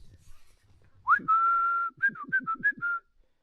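A person whistles to call a hound dog outdoors at an off-grid homestead: one long rising and held note, then a run of five short quick chirps, loud and close.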